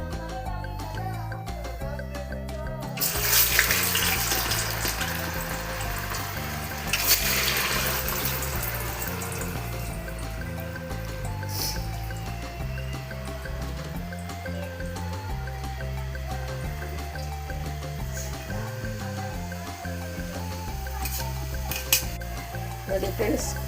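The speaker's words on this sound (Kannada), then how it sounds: "ಈಗ ಎಣ್ಣೆಗೆ ಹಾಕ್ತಾಯಿದ್ದೀನಿ." Boiled raw papaya pieces, cut as fries, frying in hot oil give off a continuous bubbling sizzle with occasional stirring, steady across the whole stretch beneath a musical background.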